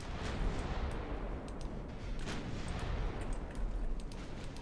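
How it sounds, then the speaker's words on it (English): Battleship main guns firing during a naval battle in Ultimate Admiral Dreadnoughts, a continuous rumbling barrage of distant booms and cracks layered over a heavy low roar, steady and moderately loud. "We are targeting the battleships with our primary guns."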